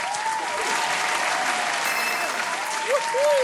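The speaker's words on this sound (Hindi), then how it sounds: "सही जवाब देने के लिए जोरदार तालियां" Studio audience bursts into loud, steady applause after a correct answer on a children's Bible quiz show, the clapping dense and sustained throughout, with a faint tonal sound effect near the end.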